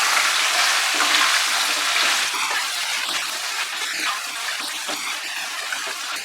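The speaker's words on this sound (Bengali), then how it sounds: "ভালো করে সবজিটা মিশিয়ে নিচ্ছি তেলের সঙ্গে" Drumstick stalks and potato with salt being stirred through hot oil in a pan, a steady close sizzle with scraping and stirring throughout, louder at the start and settling slightly.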